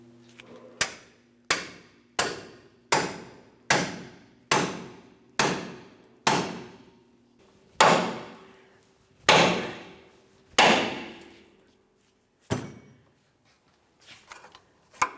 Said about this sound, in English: Let's continue on with a pickle fork and a hammer.